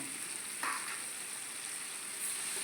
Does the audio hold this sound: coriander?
yes